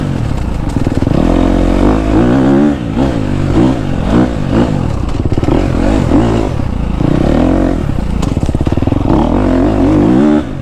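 A KTM 250 SXF dirt bike rides a forest trail, its engine loud and close throughout, revving up and down steadily with clattering bursts.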